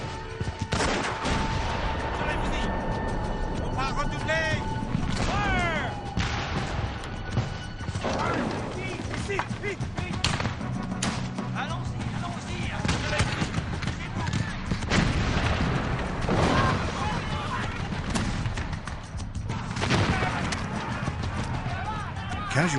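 A fort battle rages with scattered gunfire and heavy artillery booms cracking out irregularly, mixed with crashes and hoof-like clatter, all under continuous narration.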